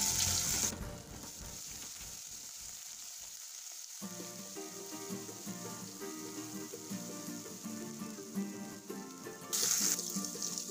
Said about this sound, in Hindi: तेल गरम हो गया है, अब इसके अंदर मैं डालूँगा जीरा, साथ ही अब आएगा मेरा अदरक और मिर्ची का जो पेस्ट बनाया था वो।